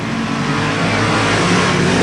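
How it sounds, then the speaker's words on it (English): Super sedan race cars at the Newcastle Motordrome roar loudly and steadily as a heat starts, with dense engine noise filling the whole span and no talk audible. "There they go. Brewer on the inside, Schwartz on the outside"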